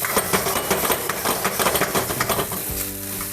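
Rice stir-fried over a high flame in a restaurant-style kitchen, with dense rapid scraping and tossing over loud sizzle, then a low mechanical hum taking over near the end.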